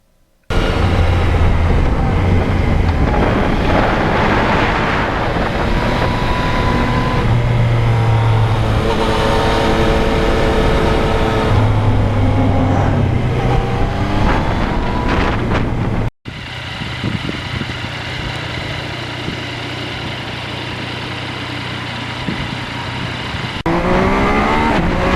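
A 2020 Yamaha MT-09 naked motorcycle is ridden at speed, with steady, loud engine drone and heavy wind rush throughout, a brief cut midway, then continued cruising.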